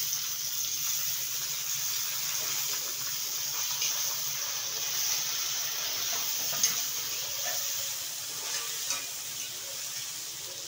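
Tomatoes sizzle on a tawa with lightly fried onions, a steady broad hiss lasting throughout with occasional faint stirring clicks.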